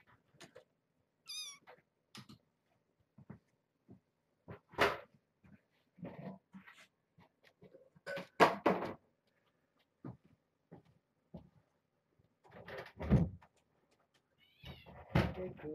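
Kittens meow in short, scattered cries through a quiet room, some high and thin, others louder and closer, with brief rustles and soft noises between them.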